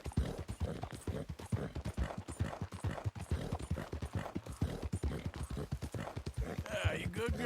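Horse hooves clip-clop at a steady, fast rhythm while riding a Dapple Dark Gray Hungarian Halfbred in Red Dead Redemption 2, with someone talking over the hoofbeats throughout.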